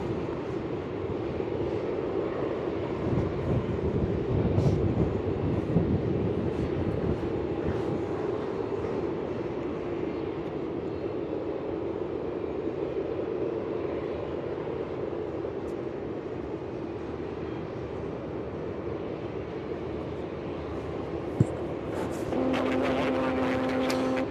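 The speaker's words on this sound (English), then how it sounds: "Could you see the Jetstar plane which is off to Queenstown pushing back, foreground?" A Jetstar airliner bound for Queenstown pushes back at Melbourne Airport, giving a steady, loud jet engine roar that holds throughout, with a brief tonal whine rising near the end.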